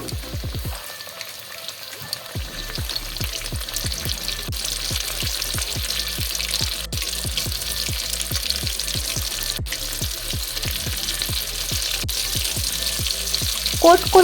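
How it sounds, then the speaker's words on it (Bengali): Coated chicken pieces for popcorn chicken deep fry in hot refined oil, a loud continuous bubbling sizzle with a dense rhythm of crackling pops, close up and steady, no voices. "তেলটা গরম হয়ে আসলে এর মধ্যে দিয়ে দেব কোট করে রাখা চিকেনগুলো।"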